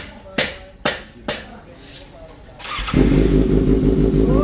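A motorcycle fitted with an SC Project mid-pipe exhaust fires up after a few sharp metallic knocks, then settles into a loud, steady, deep drone close by; voices talk faintly early on.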